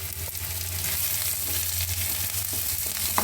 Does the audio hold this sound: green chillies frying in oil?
yes